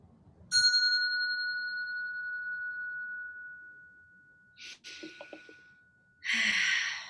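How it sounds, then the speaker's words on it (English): A single bell is struck once and rings with a clear, sustained tone that slowly fades over several seconds, followed by faint breathy sounds and a short rustle. "I'm going to ring the bell"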